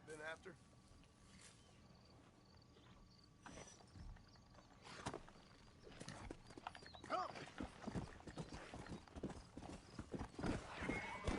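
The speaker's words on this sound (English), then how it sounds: "These pretty horses." Horse hooves clip-clop in Red Dead Redemption, a steady rhythm of hoofbeats growing louder and busier toward the end, with a faint whinny early on and voices talking over the game audio.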